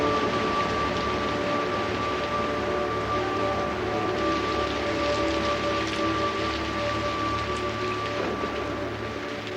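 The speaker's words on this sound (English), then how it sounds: "The wet season lasts for 8 months of the year, with the heaviest rains always at its beginning." Heavy tropical rain in Belize's wet season, a steady dense wash of downpour filling the whole stretch at an even, loud level with no pauses or voices.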